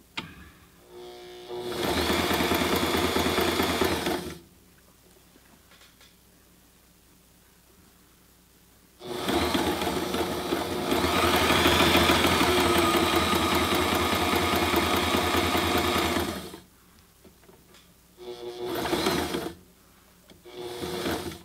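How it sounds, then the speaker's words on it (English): A Sailrite Ultrafeed LSZ1 sewing machine stitches fabric in three runs, a close, steady mechanical whirring and clatter, the middle run longest, with quiet pauses between. "We'll just sew a few inches here and see how it looks."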